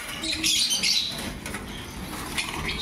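Caged pet birds flap their wings in short fluttering bursts, mixed with a few chirps, close and fairly loud within a cluttered background.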